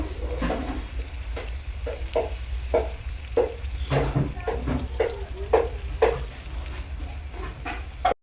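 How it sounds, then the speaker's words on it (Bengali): Chicken cooks with sour yogurt in a pan, a soft steady sizzle broken by repeated scraping and stirring strokes at a loose, irregular rhythm, close up with no talk. "চিকেনটা রান্না করছি তোমরা দেখো দই দিয়ে দিচ্ছি আমি"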